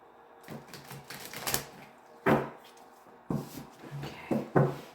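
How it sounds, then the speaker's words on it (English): Tarot cards shuffled by hand in bursts of riffling clatter, with several sharp flurries and pauses between them, close and fairly quiet. "Let me give them another shuffle."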